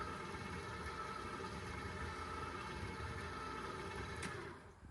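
Electric mixer beating macaron batter at low speed, a steady continuous motor whir that holds even and then tapers off near the end, fairly quiet.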